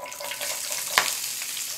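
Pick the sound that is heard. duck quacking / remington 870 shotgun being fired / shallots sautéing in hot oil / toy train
shallots sautéing in hot oil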